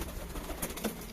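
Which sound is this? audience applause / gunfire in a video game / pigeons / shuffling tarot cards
pigeons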